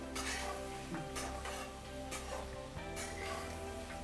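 A mixture is lightly stirred in a pan, with soft rhythmic scrapes over a low, steady sizzle and a constant hum in the background, close but quiet.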